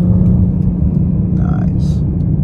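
2023 Nissan Rogue Platinum AWD downshifting on paddle shifters with a rev-matching throttle blip: a steady cabin engine drone swells briefly in the middle, with no one talking.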